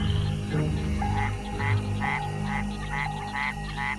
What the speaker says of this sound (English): To attract a female, the Mexican white-lipped frog makes a series of chirping sounds.